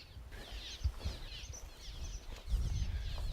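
Birds chirp and twitter around a deserted historic homestead, a busy chorus of small calls with soft outdoor ambience and a few low thumps of movement nearby.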